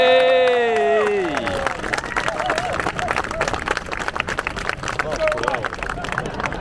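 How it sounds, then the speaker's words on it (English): Tour group at the Tower of London cheering and clapping, a shout opening over a dense wash of crowd applause and cheers that carries steadily from start to end, with scattered voices mixed in. "if you enjoyed the tour, please feel free to cheer and clap."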